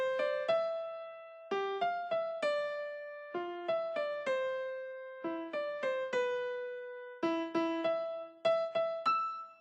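Solo piano plays the right-hand melody of Für Elise, a clear sequence of single struck notes with decaying tails and brief pauses between phrases, close and unaccompanied.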